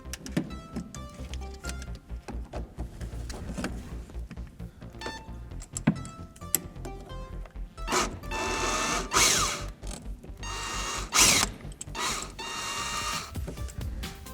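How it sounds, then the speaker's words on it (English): A power tool whirs in short bursts while loosening a 10 mm bolt beneath the rear bumper of a Lexus LS600h, the intermittent motor runs interspersed with clicks and handling clatter, close by. "Maybe I can get in there with the power tool."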